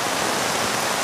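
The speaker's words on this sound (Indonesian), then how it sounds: "Hujan ya." Rain falls steadily as a dense, even hiss of drops, with no break and no voices over it.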